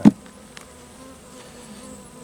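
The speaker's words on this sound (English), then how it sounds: "This one bee is not liking the camera." Honey bees around a hive, a close sharp buzz as one bee darts past, then fainter buzzing and a brief tap over a quiet background.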